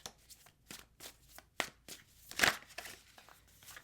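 Tarot cards are shuffled by hand in a quiet room, a series of soft riffling and slapping bursts in an uneven rhythm, fairly close and faint, with one sharper snap near the middle.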